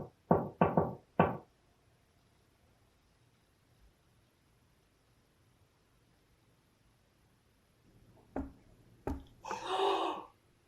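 Knocking on surfaces in a hotel lobby during a ghost hunt, near the counter: three quick sharp raps at the start, long quiet, then a couple of isolated knocks and a brief breathy burst near the end.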